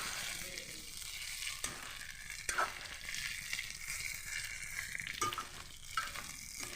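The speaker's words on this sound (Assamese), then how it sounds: "ঔটেঙাখিনি দি আমি আকৌ লৰাই দিম ধুনীয়াকৈ, যাতে তেলখিনিৰ লগত ঔটেঙাখিনি" Pork and sliced elephant apple sizzle and fry in a little oil as a spoon stirs them, with a continuous close hiss and a few sharp scraping clinks against the pan.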